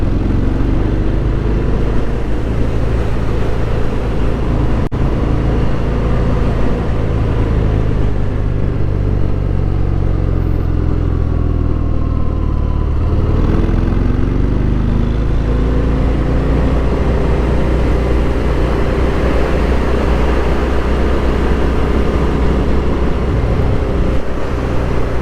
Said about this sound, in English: All right, I love this motorcycle.